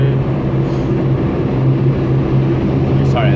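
Original engine of a VW Golf CitiSport pulling in third gear after a downshift, a steady low droning hum heard from inside the cabin, loud and continuous with a faint higher whine near the end.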